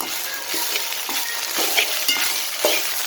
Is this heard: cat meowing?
no